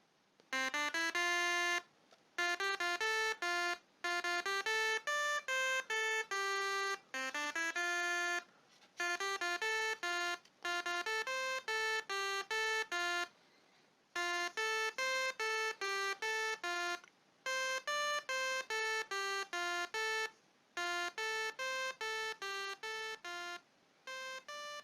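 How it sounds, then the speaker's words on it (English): Pure electronic tones from a rapidly switched electromagnetic coil beep in rapid melodic runs, changing pitch step by step with the switching frequency, with short silent gaps between bursts, steady and fairly faint. "controlling the frequency at which we switch the coil, and see what we can hear from our system"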